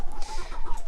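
Chickens cluck softly in a cold coop in below-zero winter weather, a close, brief burst of low clucking from several birds.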